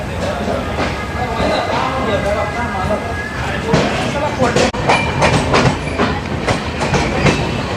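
The 12331 Howrah–Jammu Tawi Himgiri Express rolls along the rails with a steady, loud rumble and rhythmic clickety-clack of wheels on track joints, and a voice talks over it.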